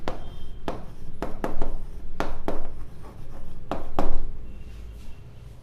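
A pen writes on paper or a board in quick scratchy strokes, in several short spaced bursts of close scribbling with no voice over them.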